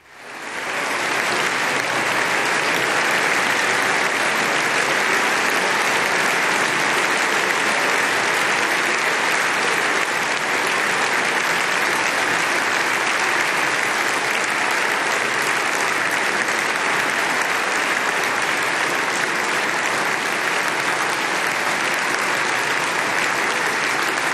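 The Italian Parliament in joint session breaks into sustained, loud applause, a dense unbroken roar of many hands that begins abruptly and holds steady at full strength for over twenty seconds with no speech.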